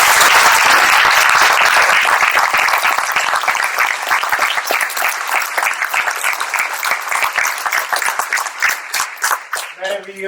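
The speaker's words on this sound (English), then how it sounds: "Let's give these soldiers a round of applause." Sustained applause from a large crowd at a National Guard signing ceremony, loud and dense at first, thinning into scattered claps toward the end.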